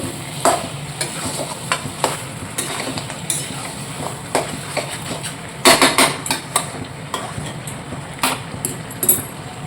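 Meat for kosha mangsho fries in oil in a pot while a spoon stirs and scrapes it, making irregular close clacks over a soft, continuous sizzle.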